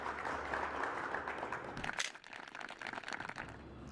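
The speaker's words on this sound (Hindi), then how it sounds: "एक बार फिर से तालियां बजाइए।" Faint crowd applause, a dense patter of many hands clapping at a distance, thinning and then picking up again.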